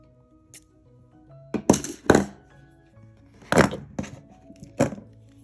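Wire being snipped with cutters while making a herringbone wire bracelet, several sharp close clicks and cracks in irregular succession against a quiet background.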